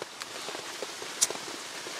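Rain falls on a forest camp in a soft, steady patter of scattered drops, with one sharper drop standing out near the middle, close and unaccompanied by voices.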